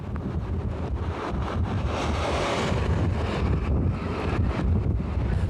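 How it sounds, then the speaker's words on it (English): Hurricane Fran's strong gusts roar steadily across a town, a loud continuous rush of wind buffeting the microphone with no break and no voices. "strong sustained gusts of up to 45 miles per hour whipped through Goldsboro"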